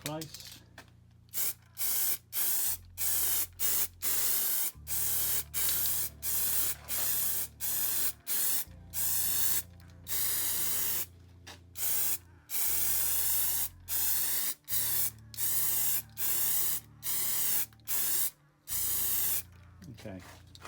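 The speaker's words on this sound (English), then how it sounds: "then we'll spray the Foamex afterwards, same process" Aerosol spray can misting adhesive onto a Foamex sheet in repeated loud hissing bursts of one to two seconds, separated by short pauses, with faint tapping and a metal rattle between sprays.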